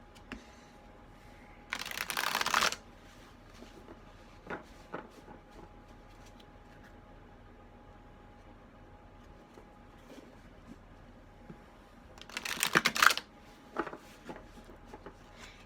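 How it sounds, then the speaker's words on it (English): A deck of cards is shuffled in two brief riffling bursts, separated by a long quiet stretch holding only faint handling noises and light taps. "while I'm shuffling these cards"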